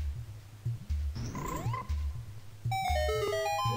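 A frog croaks in Zelda Majora's Mask over steady game music, with a rising chirp and a bright chiming jingle at the end.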